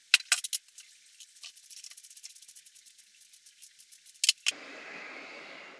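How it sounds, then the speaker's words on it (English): Ratcheting 13 mm socket and Allen wrench tightening bolts on Hawk Helium Mini stealth strips: a quick, steady run of small metallic clicks and ticks, close and fairly faint, ending in a couple of sharper clanks before a soft hiss. "I'm gonna use the 13 millimeter socket and the larger Allen wrench, and I'll tighten this up"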